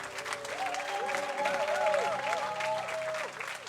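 An audience in a church applauds steadily throughout, a sustained wash of clapping under voices and drawn-out sung or cheering tones.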